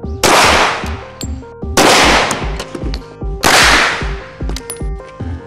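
Three loud, sharp gunshots from duty rounds fired at a ballistic clipboard, evenly spaced, each crack ringing out with metallic ringing and echo, no talking.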